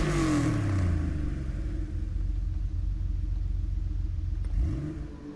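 A Porsche 911 Type 993 Carrera RS Club Sport engine in Gran Turismo Sport rumbles steadily with a low revving drone, rising slightly in pitch near the end, heard close and alone.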